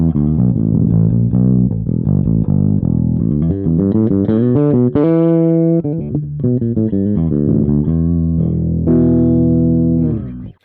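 Electric bass played through an Origin Effects Super Vintage pedal on its mid-heavy Tweed setting, a loud, continuous run of sustained melodic notes with a warm, slightly driven tone.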